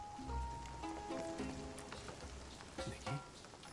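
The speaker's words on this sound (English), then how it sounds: "I love how refreshing the cool raindrops feel." Soft, steady rain patters over a surface in the video game Infinity Nikki, a faint continuous wash with scattered light drop sounds and some faint tonal background.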